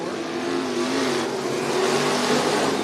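Dirt track race cars roar past at Cottage Grove Speedway in Oregon, a dense, loud engine wail sustained throughout as the pack sweeps through the turns.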